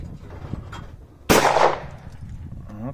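A single loud shotgun blast fired at a launched clay target outdoors near Calgary, Canada, a sharp crack with a decaying rumble, amid quiet outdoor background.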